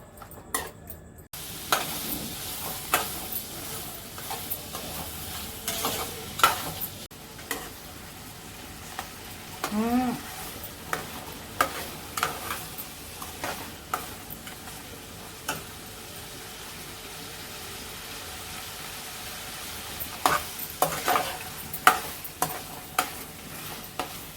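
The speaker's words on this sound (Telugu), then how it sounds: "ముందుగా ఆయిల్ పోసాను తర్వాత ఇదిగో రొయ్యలు వేసి వేపుతున్నాను" Prawns frying in oil in a pan give a steady close sizzle, with scattered clicks and scrapes of stirring throughout and a brief quieter gap near the start.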